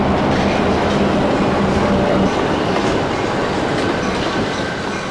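A train rolls past on the rails, a loud, continuous rumbling roar with rattling wheels and a faint tonal hum, close and steady for the whole stretch.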